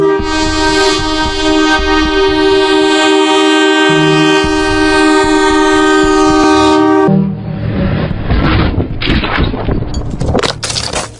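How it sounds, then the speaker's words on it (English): A train roars past close by with a loud sustained horn blast, then rattling, clattering wheels and rushing wind as the cars rush by. "the force created by the passing train"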